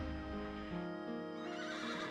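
A horse in the video game Wild Arms lets out a long, loud whinny that rises and wavers, then trails off into a lower, fading neigh, heard alone.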